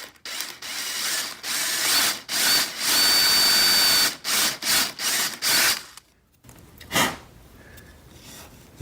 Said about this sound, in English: I'm gonna come in there with my 3/8 inch paddle bit